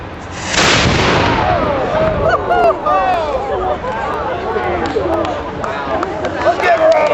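A reproduction 19th-century cannon fires once outdoors near a riverbank: a single sharp, loud boom that rolls into echo, followed by excited crowd voices and chatter.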